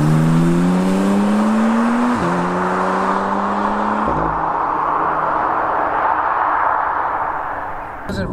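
A red Jaguar F-Type V6 sports car accelerating hard, its engine note climbing through two quick upshifts with brief drops at each change, then settling into a rushing, fading roar of wind and road noise.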